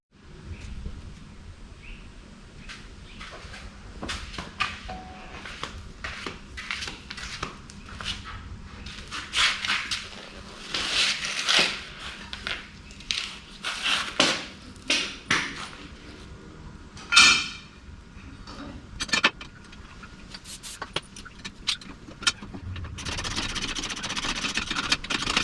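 A differential is bolted down under an International C1100 pickup truck, with scattered metallic clicks, ratcheting and sharp knocks of tool work at close range, irregular and separated by quiet gaps.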